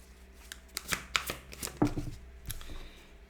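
Tarot cards shuffled and drawn by hand, a run of crisp close riffles and flicks with a few card snaps, alone without talk.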